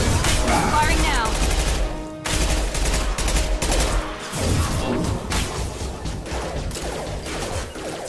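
Rapid gunfire from the Mass Effect 2 video game crackles in dense bursts with sharp impacts and brief gaps, while a voice speaks faintly underneath.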